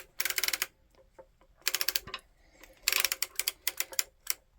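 An Erlbacher circular sock knitting machine cranked around a row, bursts of rapid mechanical clicking and ratcheting in close rhythmic runs with brief pauses between turns, no voices.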